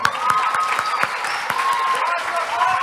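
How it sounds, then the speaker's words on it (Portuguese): Audience at a careers fair giving a round of applause, busy clapping with some crowd voices and scattered shouts mixed in, continuous and lively for a few seconds. "uma salva de palmas."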